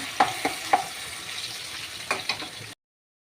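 A tempering for curry leaf chutney, likely mustard seeds, sizzles in hot oil with a soft hiss, broken by a few sharp spoon clinks and stirring taps before the sound cuts off abruptly.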